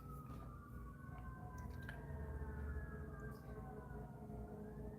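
Ambulance and police sirens wail together in the distance, their rising and falling tones overlapping above a low, steady rumble of traffic.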